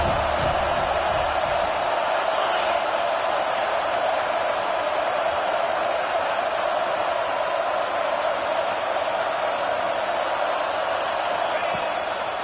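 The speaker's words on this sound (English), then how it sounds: "Decibels rising as the crowd gets behind this defense on third down." A football stadium crowd roars for the defense on third down, a continuous, dense wash of cheering that stays at a steady level throughout, heard from within the stands.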